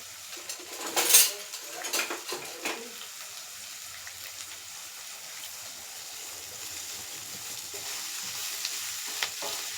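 Curry leaves, onion and green chillies fry in a pan with a steady faint sizzle, while utensils clink and scrape loudly against it in the first few seconds before quieter stirring.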